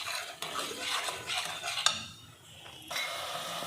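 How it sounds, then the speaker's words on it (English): Finely ground onion fries in a pan for a cowpea gravy while a spoon stirs and scrapes it, giving soft, uneven scraping and sizzling that dips briefly midway before picking up again. "you should keep stirring it like this because otherwise it may turn black"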